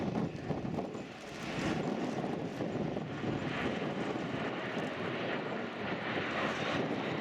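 A steady, loud roar of a jet aircraft passing overhead at the RIAT 2016 air display, sustained throughout with some wind buffeting on the microphone.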